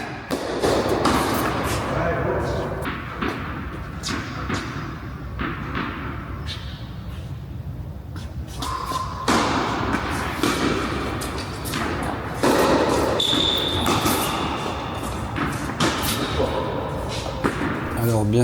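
Padel ball strikes during lobs and drop shots, a series of sharp thumps and taps spaced irregularly through the rally, heard under steady talking.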